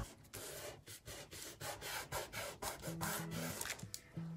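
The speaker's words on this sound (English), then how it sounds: "We'll rub that a little bit harder." A rustic farmhouse wooden serving tray being rubbed by hand, with steady back-and-forth scraping strokes that rasp continuously and faintly at close range without speech.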